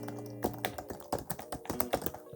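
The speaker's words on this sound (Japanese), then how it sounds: "実際にこのキーボードを打っている時の気持ちよさはすごく感じます" Typing on a Surface Pro keyboard, a quiet but firm-feeling keyboard: irregular close clicks and taps of keys in quick succession, crisp and near, with no talking.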